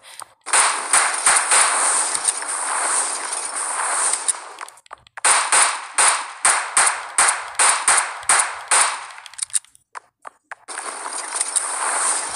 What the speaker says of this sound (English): Walk around and shoot.